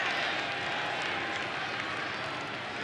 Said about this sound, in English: Nervous crowd.